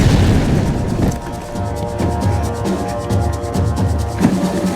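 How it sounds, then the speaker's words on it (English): A grenade blast in the video game Max Payne 3 during a boat chase, a loud rumbling boom that opens the moment and decays into a sustained low roar with a droning engine underneath. "Shit! Grenade! Grenade! Down!"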